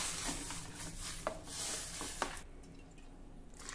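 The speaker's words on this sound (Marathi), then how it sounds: "आता यामध्ये घोटलेली ही डाळ किंवा वरण घालूया।" Mashed, thick dal is poured into a pan of cooked, spiced vegetables, giving soft wet squishes and a few drips up close before the sound quiets near the end.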